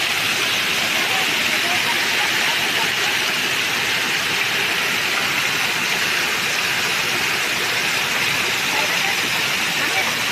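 A large waterfall in Sri Lanka, heard from within the falls, gives off a steady, loud, hissing roar of pounding water that fills the whole stretch without a break.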